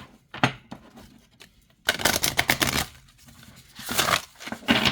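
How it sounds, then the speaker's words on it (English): A deck of playing cards is shuffled close up: quick papery riffles and snaps in short bursts, with quiet gaps between them and no talking. "let's see how it shuffles"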